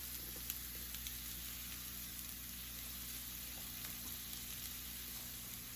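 Broccoli, carrots and cauliflower rice sizzle steadily in a pan while stir frying, a soft continuous hiss with a faint high whine and no talk.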